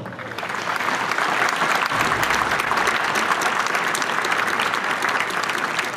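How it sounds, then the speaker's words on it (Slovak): Loud, dense applause from a large audience at the St. Hubert's Days hunting festival in Svätý Anton, Slovakia, holding steady for several seconds close by, with no speech over it. "Poprosím jeden veľký potlesk pre svätý Anton"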